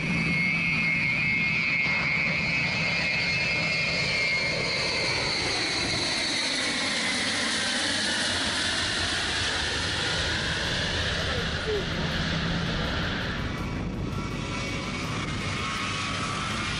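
Four-engine Ilyushin Il-62 airliner making a low pass, a loud sustained jet roar with a sweeping pitch shift as it flies by close overhead, filling the whole stretch.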